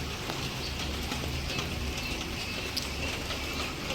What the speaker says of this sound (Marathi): बाहेर खूप पाऊस चालू आहे.